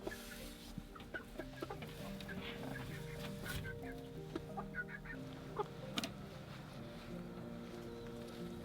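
Two hens and a rooster at a mountain chicken coop in the Alps give soft, repeated clucks and murmurs, faint and intermittent, over a quiet background hum.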